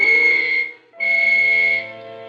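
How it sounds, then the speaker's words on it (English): A pair of sustained, loud whistle blasts signal all clear in a 1950s–60s radio mystery drama, each held steady for over half a second with a brief silent gap between them. "I waited for the whistles to signal all clear."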